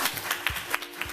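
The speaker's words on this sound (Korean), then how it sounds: "여러분의 힘찬 박수와 함께 시작해 보겠습니다" An audience claps at the start of a Heart to Heart 2018 talk with a Korea Communications Commissioner, though only a few soft, separate claps come through, spaced unevenly and fairly quiet.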